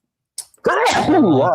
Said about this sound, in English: the sneezes are loud